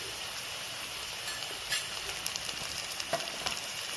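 Crushed small onions with ginger garlic paste sauté for Kerala-style chicken curry, a soft steady sizzle with a few light stirring clicks and scrapes, fairly faint.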